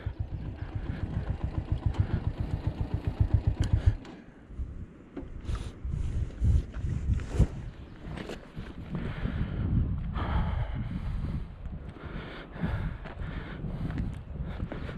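A motorcycle idles on a mountain road in Kashmir's Baboon Valley, a steady close throbbing for about four seconds before it cuts out, leaving gusty wind, rustling and scattered knocks.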